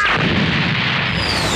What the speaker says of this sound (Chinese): Mr. 五是爆炸果实能力者，身上任何部位都能爆炸